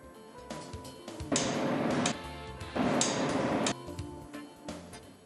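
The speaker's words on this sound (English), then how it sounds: "Tighten the coupling pieces using the torque spanner." A torque spanner tightens the coupling pieces during a slide-type fuel valve overhaul. Two loud ratcheting bursts, each about a second long, stand out against quiet metallic clinks and handling noise.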